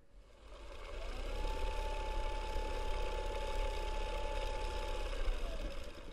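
A new EEW 5.2 machine runs steadily at 1,000 RPM, a smooth mid-pitched mechanical whir with a faint whine that starts about a second in and holds evenly until near the end.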